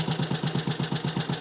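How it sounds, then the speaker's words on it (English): A cold Matchless G11 classic motorcycle engine idles steadily in a workshop, its low exhaust pulses thumping in an even, quick rhythm with a mechanical clatter on top, close by and moderately loud. "that's a cold engine. It ticks over pretty well"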